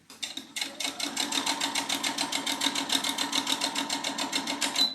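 A sewing machine stitches a quarter-inch quilt seam in a fast, steady run of needle strokes, close and loud, starting after a brief pause and continuing without talk.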